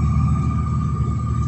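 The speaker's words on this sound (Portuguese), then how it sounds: "o caminhão tá lavando aí, ó" A truck washes a highway where a semi-trailer spilled its cargo, a loud steady engine rumble with a constant droning hum close by and no pauses.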